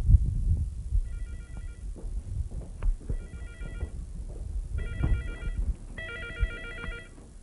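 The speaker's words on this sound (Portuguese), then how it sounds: "Que barulho é esse aí? Seu telefone celular, meu." A mobile phone rings in repeated electronic melodic bursts, four in all, that grow louder toward the end, over rumbling background noise at a rural property in Brazil.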